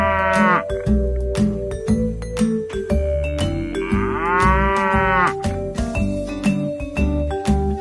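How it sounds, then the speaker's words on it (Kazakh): A cow moos loudly and near, in long, drawn-out calls with a gap between them, over a steady backdrop of other farm animal noise. "Сиыр мөңірейді."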